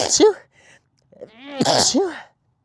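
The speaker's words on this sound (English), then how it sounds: "Oh, I'm about to sneeze." A single loud sneeze with a breathy build-up, close to the listener, preceded by a brief vocal sound.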